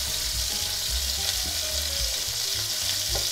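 Pork ribs searing in a pan with a little salt, a steady close sizzle and crackle of frying with faint stirring or shifting sounds throughout.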